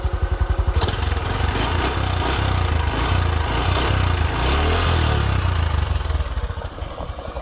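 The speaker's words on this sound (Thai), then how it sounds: "จะเบิ้ลให้ดูนิดหน่อยครับ" A Honda Wave 110i motorcycle engine (2022) runs loud and close, chugging at idle, then revs up in a few quick blips before settling back down.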